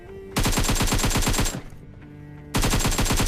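SCAR assault rifle firing in a video game: two loud, rapid full-auto bursts of evenly spaced shots, the first about a second long, then a brief lull with faint background sound before a second burst starts.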